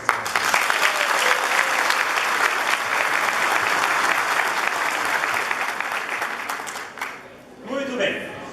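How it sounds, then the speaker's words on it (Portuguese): Audience applause at a management talk event, a dense, loud wash of clapping that holds steady for about seven seconds before thinning out, with a few voices and a last flurry of claps at the end. "Eu gostaria de pedir uma salva de palmas para essas moças."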